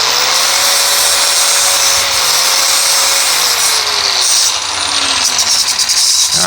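A power grinder works a Corvair engine oil cooler plate in a steady, loud, continuous whine, its pitch slowly drooping and shifting as the tool bites the metal, with no talk over it.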